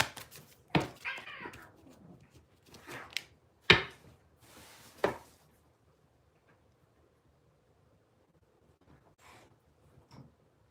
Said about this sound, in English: My cats are fighting.